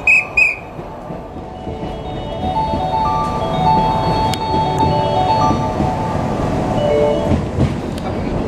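A sleeper limited express train on an out-of-service run pulls out of Osaka Station. A steady rumble builds and holds, with a short whistle-like tone at the very start and thin tonal squeals over the rolling noise.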